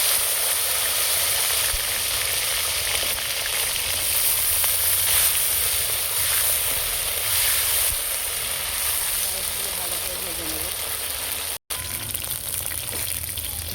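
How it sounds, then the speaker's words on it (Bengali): Oil sizzles and crackles steadily as cut okra fries in a pan with black cumin seeds, a continuous close hiss with a brief cut near the end. "কাটা ঢেঁড়সগুলো ভেজে নিচ্ছি"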